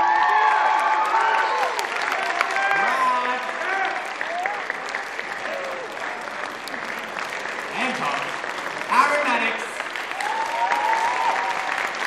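Audience applause at a school talent show in a theatre, sustained clapping from a large crowd with scattered cheers and voices mixed in, loud and continuous throughout.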